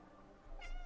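A cat meows once in the video game Stray, a short, fairly close mewing cry rising in the second half over quiet low ambience.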